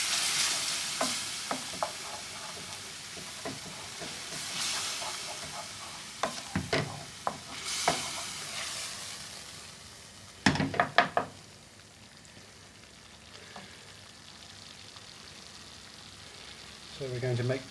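Chickpea and spinach curry with yogurt is stirred in a hot pan, a soft continuous sizzle broken by occasional spoon scrapes and clacks against the pan, fairly quiet and close.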